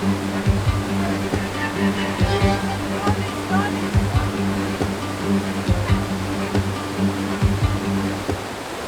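Mountain river water rushes loudly and steadily beside a trekking trail toward K2 base camp in Pakistan, a constant roar with broadband noise, while people talk and breathe nearby over it.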